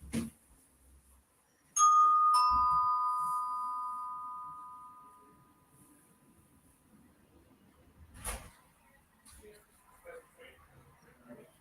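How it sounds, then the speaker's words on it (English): A doorbell rings once in a home office setting, a bright two-tone chime that starts sharply and rings out slowly over several seconds, loud and close, followed by faint room noise and a brief knock-like thump. "My doorbell just rang."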